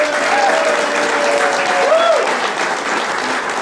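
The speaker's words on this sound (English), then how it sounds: "Let's give Jessica a big round of applause" A banquet crowd gives a sustained round of applause for a concession worker. The dense clapping holds steady throughout, with a few voices and cheers rising over it.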